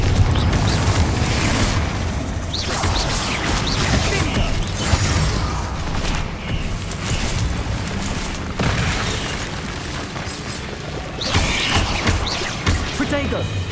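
Confringo blasting spells explode during Hogwarts Legacy combat, loud booming bursts that come again and again over a constant roar of battle noise, with hardly a gap.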